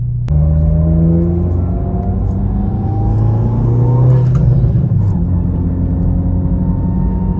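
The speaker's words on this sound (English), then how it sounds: "all you're hearing is the transmission whine from our PPG race transmission" A steady high whine from a PPG race transmission rises and falls in pitch over a continuous engine rumble as a 2022 Honda Civic hatchback cruises, no voices.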